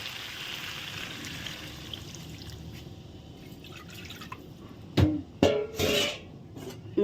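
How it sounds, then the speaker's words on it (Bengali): Water pours from a spice bowl into a pot of chicken curry, a few short splashing gushes close by after a stretch of quiet kitchen background, with no talking. "মশলার বাটিটা দিয়ে একটু জল দিয়ে দিই।"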